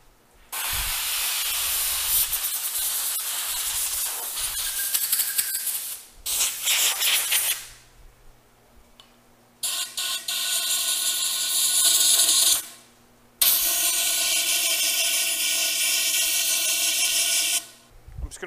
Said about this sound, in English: I'm going to take this air gun and I'm going to blow out the collar and everything.